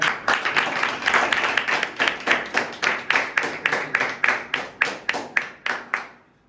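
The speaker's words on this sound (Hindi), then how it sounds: "एक बार और जोरदार तालियां होना चाहिए" Rhythmic group clapping at a weekly group meeting's appreciation program: about twenty sharp, evenly spaced claps in unison, close and loud, stopping abruptly near the end.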